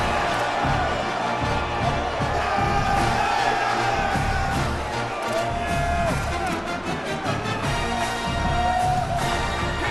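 A loud, dense football stadium crowd roars continuously on a third down during an Ohio versus Central Michigan college game, sustained noise with shouts and whoops rising and falling throughout.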